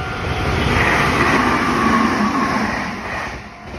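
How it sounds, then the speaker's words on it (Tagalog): A train rumbles past close by in Japan, a loud, steady roar that swells and then begins to fade. "So yun, lagi ako inaabutan ng tren dito."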